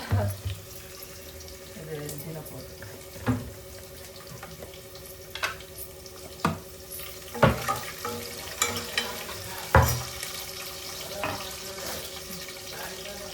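Onion fries in a pan with ginger garlic paste for Tamil Nadu style mango sambar, a low sizzle under a few sharp clinks of stirring, with kitchen water sounds and a voice speaking at times.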